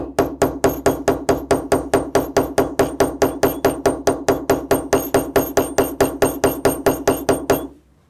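A hammer strikes a metal rounding tool to set a brass rivet, roughly thirty quick, evenly spaced sharp taps in a steady rhythm, close and clear, stopping abruptly at the end.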